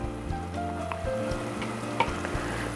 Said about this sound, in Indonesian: sudah saya aduk-aduk, sudah mendidih lagi